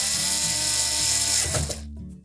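Mounting screws being driven back into a GE electric range's surface burner control switch, a steady ratcheting mechanical whir that runs close and loud for about two seconds, then stops abruptly.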